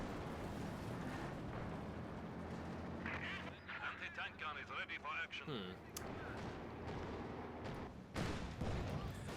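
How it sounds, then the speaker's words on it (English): IL-2 rocket strafe explosions in Company of Heroes 2 rumble and boom with battle noise, heavy low blasts over a constant din, while a commentator's voice talks over the action. "we've got the IL-2 rocket strafe, which completely misses"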